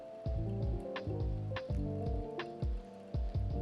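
Hot water poured in a slow stream over ground coffee in a V60 paper-filter dripper, heard up close as a run of wet, gurgling splashes that surge in repeated pulses, with no talking.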